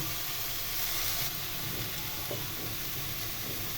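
Water poured into a hot pan of vegetables (potato and ridge gourd for a poppy-seed curry) gives a loud, steady sizzling hiss that fills the whole moment, close and continuous with no talking.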